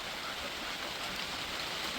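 Rain falls steadily as a soft, even hiss of drops, faint and continuous with nothing else standing out.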